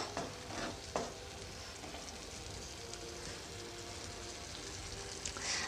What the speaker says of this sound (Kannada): ಇವಾಗ ನಾವು ಇದನ್ನು ಒಂದು ಐದು ನಿಮಿಷ ಮತ್ತೆ ಇದನ್ನು ಚೆನ್ನಾಗಿ ಕುದಿಸ್ಕೋಬೇಕು